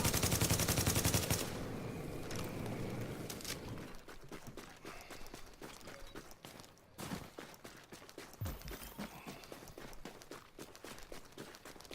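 Rapid gunfire during a boss fight in a shooter video game, rattling bursts of automatic fire and scattered single shots, fairly quiet in the mix with footsteps between volleys.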